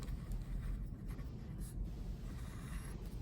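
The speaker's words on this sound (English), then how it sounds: "I'm just going to write on this piece of paper" Steady scratching of a pen moving across paper, close and quiet, continuous with small irregular strokes and no talking.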